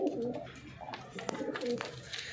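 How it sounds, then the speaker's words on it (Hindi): Pigeons kept by a hobbyist coo in soft, repeated low phrases, several calls in a row at close range with faint background noise. "बताना कबूतर आपको कैसे लगे"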